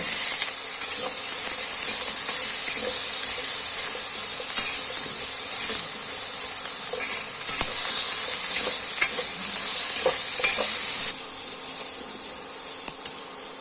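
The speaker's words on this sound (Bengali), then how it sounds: "অল্প হলুদ দিয়ে আলুগুলোকে ভেজে নেব।" Potato pieces frying in oil with a little turmeric in a wok, a steady bright hiss and sizzle with occasional faint stirring clicks, no talking.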